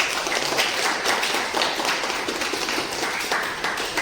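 A small group clapping together as self-applause at the close of a self-compassion affirmation session, giving a steady, fairly dense patter of claps throughout with no talking.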